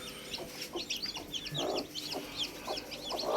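Tiger hen chicks and chickens cluck and cheep in a steady, busy chorus of short high peeps over soft clucking, close by in a brooding area while rain falls outside.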